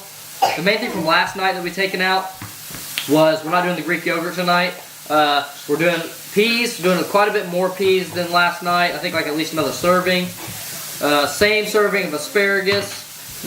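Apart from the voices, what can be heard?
80% lean burger sizzling in a pan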